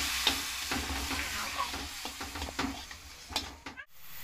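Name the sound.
frying and stirring spice masala with water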